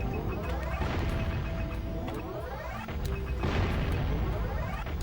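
Cannon fire in the video game Jak and Daxter: The Precursor Legacy, heavy booming shots repeating about every second and a half over a continuous rumbling game soundscape with rising whooshing tones.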